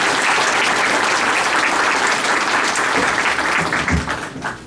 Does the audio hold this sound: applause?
yes